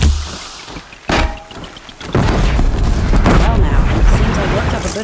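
Gunfire in Horizon Zero Dawn bursts out as loud, booming shots, first as single cracks and then as a dense, continuous barrage, with a voice talking over the combat.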